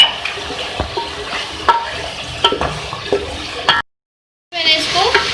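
A spoon stirs turmeric, coriander, cumin and red chilli powder into fried beef in a pot, giving repeated scraping clinks over a soft sizzle, with a brief silent gap before the stirring resumes.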